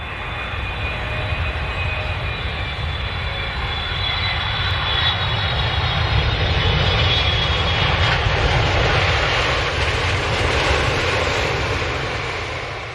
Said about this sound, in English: there must be an airplane flying overhead